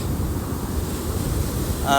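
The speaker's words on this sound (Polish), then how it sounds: "Oczywiście zobaczcie, jakie są tutaj ogromne fale." Steady roaring surf on the Gold Coast, Australia, with wind buffeting the microphone, a continuous wash of large ocean waves close by, and a brief voice at the end.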